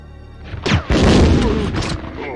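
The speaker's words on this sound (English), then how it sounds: "That grenade launcher fires a lot weaker than I thought it would" A grenade launcher fires in Resident Evil 2 (1998), a single sweeping whoosh followed by a loud, close boom that fades over about a second.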